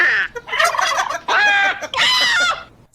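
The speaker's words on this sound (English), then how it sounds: "I'll admit I was torn which bird sound effect to put there" A turkey gobbles loudly and close up in three or four quick bursts of rapid warbling, with short gaps between them, played as a sound effect.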